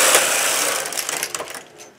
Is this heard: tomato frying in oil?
no